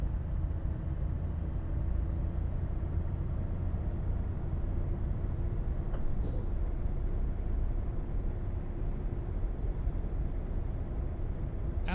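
Scania truck cruising in Euro Truck Simulator 2, a constant low engine and road drone at steady volume throughout, with a faint short tone briefly rising over it midway.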